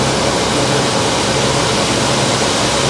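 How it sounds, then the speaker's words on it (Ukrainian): Water rushes steadily through pipes at a soybean drying setup, a loud, constant broadband roar with no pauses and no voices. "Пішла вода по трубах."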